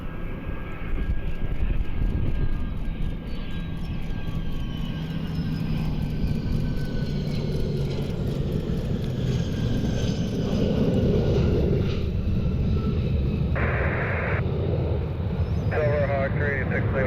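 Learjet arriving at Cleveland airport, a steady jet engine roar that carries through the whole stretch, under faint radio chatter and wind.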